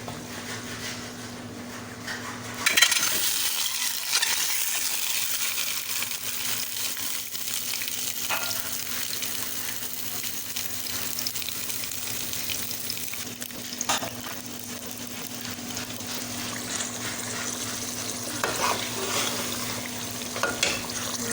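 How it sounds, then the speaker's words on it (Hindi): Eggs frying in a little oil in a pan for a potato-and-egg dish, a steady close sizzle starting abruptly after a quiet moment and continuing throughout, with occasional stirring scrapes and a constant low hum underneath. "ऑयल के बाद मैं अंडों को फ्राई करूँगी हल्का सा।"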